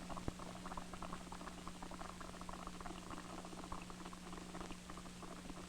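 Water comes to a boil inside a paper cup, giving a faint, continuous bubbling and popping patter with a steady low hum underneath.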